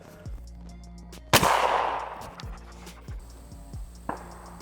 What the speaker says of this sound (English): let's see if you notice the 12 gauge